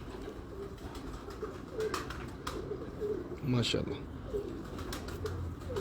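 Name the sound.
pigeons cooing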